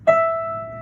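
One clear piano note, E, struck once, sustaining smoothly and gently decaying, close and alone.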